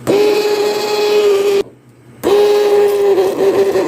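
Hand blender whirring through cooked tomato soup with a steady high motor whine, loud and continuous, cutting out briefly for about half a second before resuming.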